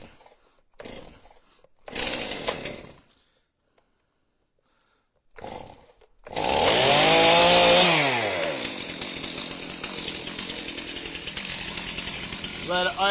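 A 460 chainsaw roars to life after a couple of pull attempts, revving up loudly and then settling into a steady, buzzing idle; a voice is heard briefly before it starts.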